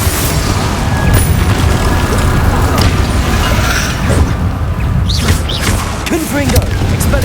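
Confringo fire-blast spells in Hogwarts Legacy erupt as continuous loud booming bursts and crackling impacts, layered with dense game combat noise throughout.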